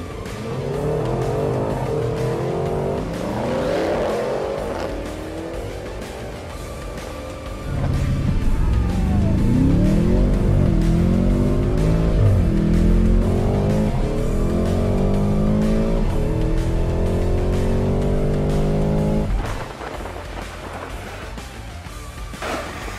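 An Audi S8 and a Porsche Cayenne GTS, German V8s, launch side by side in a drag race, their engines revving hard and then roaring loud and close through a long full-throttle run before backing off.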